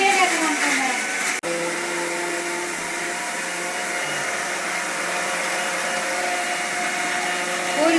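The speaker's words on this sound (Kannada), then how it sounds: "ನನ್ನ ಮಿಕ್ಸಿ ಪಾಡ್ದು ಗಿರ್ರ ಮಾಡ್ಬೇಕು" A kitchen mixer grinder blends chicken masala with a loud, steady whirring drone that cuts out briefly once, then runs on evenly to the end.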